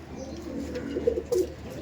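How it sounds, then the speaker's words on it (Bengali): Madrasi tournament-quality pigeons coo nearby in a few soft, throaty bursts over a low background murmur. "দারুণ পায়রা, দারুণ।"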